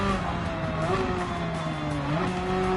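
A Porsche race car in Gran Turismo 7 sings a steady, close engine whine that rises and drops with gear changes. Faint tyre noise runs underneath.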